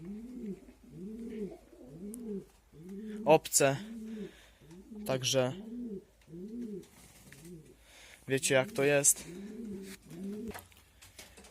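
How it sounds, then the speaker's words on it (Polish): Homing pigeons coo steadily in repeated rolling calls nearby, with someone speaking briefly over them and some wing flaps or rustles. "Także nowe gołębie, cztery są."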